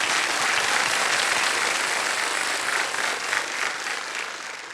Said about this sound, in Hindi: एक बार तालियां बज जाए उनके